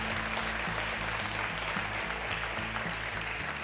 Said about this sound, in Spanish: pues un aplauso para nuestra Laura que le coloca en silla.